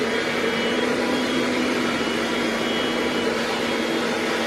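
A Philips Speed 2-in-1 vacuum cleaner runs steadily and loudly at close range, giving a constant whirring drone with a strong motor hum and no pauses.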